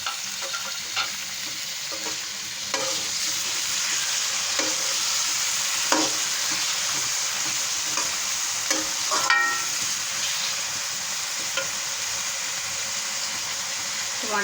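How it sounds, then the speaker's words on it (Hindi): Tomatoes are stirred into a pan of frying egg and potato curry, with a steady sizzle and hiss running throughout and occasional scraping stir strokes, close by. "अब इसमें मैं टमाटर डालूंगी।"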